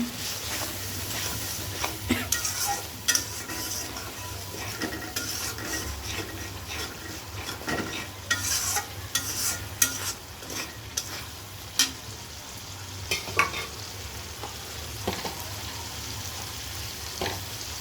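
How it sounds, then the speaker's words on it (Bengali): Spice masala for khichuri with a splash of water sizzles steadily in a pan while a spoon stirs it, scraping and clinking now and then, close and alone without talk. "মশলাটা ভালো মতো কষায় নেব"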